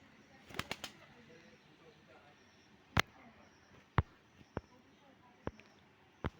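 A white pigeon released by hand, with a quick burst of wing flaps followed by several sharp, isolated claps spaced a second or so apart over a quiet outdoor background.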